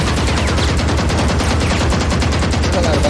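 Rapid gunfire in the video game Valorant, on the Icebox, Bind or Split maps, rattling loudly and continuously as a dense stream of shots with no voice over it.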